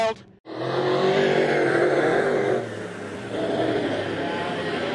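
A high-horsepower race car roars at Gympie Speedway during a season-opening meeting, its engine loud and sustained after a brief dip, then easing slightly before pulling hard again, with crowd and track noise behind.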